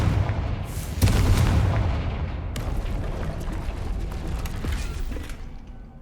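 A Confringo spell explodes in Hogwarts Legacy with a heavy, booming blast. A second impact follows, then a long rumbling, crackling tail slowly fades out, and no one speaks.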